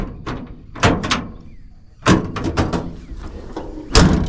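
Heavy door of an old truck opened and shut several times, producing sharp metallic clunks and slams with rattling between them, close and loud, with no talking.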